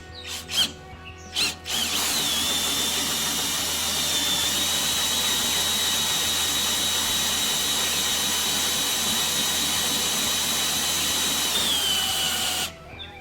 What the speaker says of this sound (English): I'm drilling a hole in my car. 1 3/4 inch hole in the front of my car